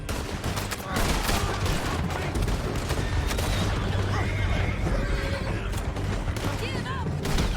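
Horses neighing and hooves clattering amid bursts of gunfire in the Red Dead Redemption 2 video game, with a busy, dense mix of riders and shots running throughout.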